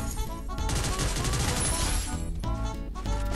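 Rapid automatic G36 rifle fire in the Free Fire battle royale game, a dense, loud burst of shots that briefly pauses and then resumes, with other game sounds mixed in.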